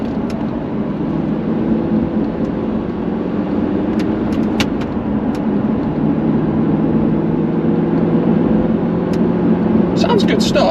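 An Audi R8 with a rebuilt engine and a gated manual gearbox drives along, its engine a steady, full drone throughout with a slight rise in pitch near the end.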